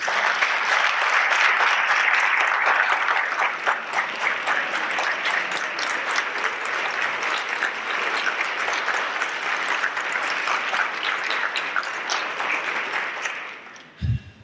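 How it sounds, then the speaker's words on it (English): A press conference audience at the 2018 IMLS National Medal event breaks into sustained, fairly loud applause that holds steady for several seconds and then tapers off abruptly at the end. "we'll give you a hearty round of applause for everyone"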